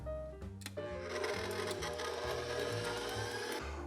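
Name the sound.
electric mixer mixing cookie dough with eggs and vanilla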